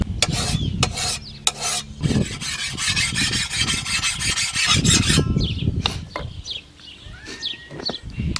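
A metal file rasps across the hardened steel blade of an old scythe in repeated close strokes, steady and scraping, with no talk over it.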